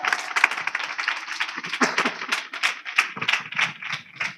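Church congregation at a Sunday worship service clapping in bursts, a choppy rapid patter of hands that rises and falls over a few seconds, fairly close and loud.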